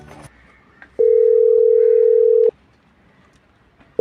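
A single steady telephone tone sounds while a call is being placed, holding loud and even for about one and a half seconds before stopping, with faint room noise around it and no talking.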